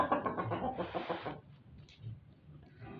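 Backyard chickens cluck and murmur close by in a quick run of calls that trails off into softer clucks and rustling.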